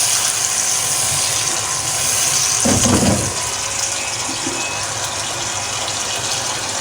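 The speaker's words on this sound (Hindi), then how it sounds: "थोड़ा सा मैं पानी डालूँगी" About half a cup of water is poured into a fish curry gravy, a steady gushing pour under a continuous background hiss, with a brief louder splash near the middle.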